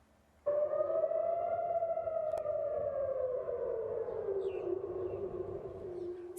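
A single air raid siren in Tel Aviv, Israel, during a rocket attack, starts abruptly and holds a steady, slowly falling tone, loud and sustained, with no voices.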